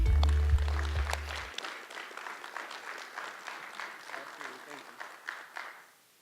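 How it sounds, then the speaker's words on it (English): Audience at a 518 Talks evening applauds Maya McNulty, a broad wash of clapping that opens loud over a low rumble, then carries on steadily before fading out near the end. "Give her a round of applause for Miss Maya McNulty."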